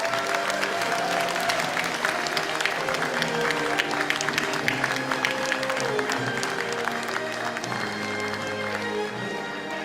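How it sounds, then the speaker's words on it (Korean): A crowd at a party launch ceremony applauds young party leaders with continuous clapping over a steady background of amplified music and room noise. "여러분, 이 청년들에게 힘찬 박수 보내주시기 바랍니다."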